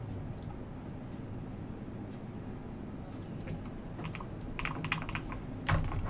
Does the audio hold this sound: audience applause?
no